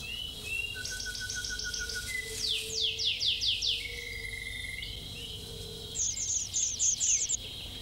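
A groove-billed ani feeds large grasshoppers to its chick amid bright repeated bird chirps and calls, over a constant backdrop of insect and cricket buzzing outdoors.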